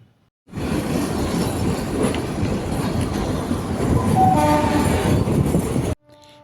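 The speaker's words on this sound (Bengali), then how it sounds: "ধীরে ধীরে আমাদের ট্রেন এগিয়ে চলেছে সিমলা স্টেশনের উদ্দেশ্যে।" The Kalka–Shimla toy train rolls along its mountain line, a loud continuous rumble with clickety-clack of wheels and rattling carriages, heard from on board with a brief tonal squeal or horn toward the end, no talk.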